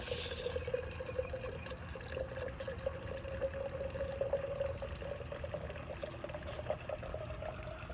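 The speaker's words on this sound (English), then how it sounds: "we're going to be adding about 8 ounces of spring water. Again, it's nice to do it through the wine aerator to restructure it." Spring water is poured through a wine aerator, a steady close trickling stream with a faint bubbling, gurgling tone that runs without a break from start to end.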